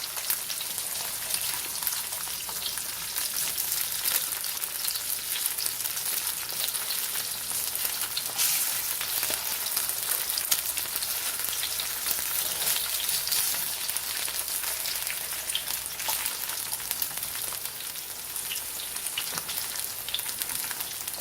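Corned beef hash frying in a pan, a steady dense sizzle and crackle that holds even and close throughout with no talking.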